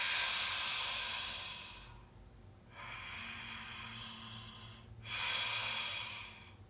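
Rasping open-mouth breathing, three long breathy cycles of inhale and exhale heard close and fairly soft, with no talk.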